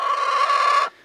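Rosie, a Rhode Island Red hen, lets out a single loud, drawn-out squawking cluck close to the microphone, lasting under a second before cutting off.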